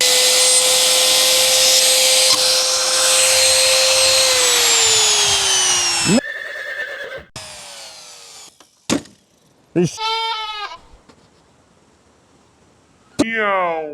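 A power drill runs steadily while boring holes for studio LED installation, its whine holding then dropping in pitch as it winds down, followed by scattered knocks, a few short clattering bursts and faint handling sounds.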